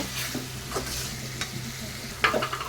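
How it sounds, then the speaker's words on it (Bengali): Cumin paste fries in hot oil in a home kitchen, a soft steady sizzle broken by a few scrapes of a stirring spoon, quiet and close, with no one speaking. "তো তেলের উপরে এটা পুরোপুরি ভেজে তারপর বাকি মশলাগুলো দিয়ে দিব"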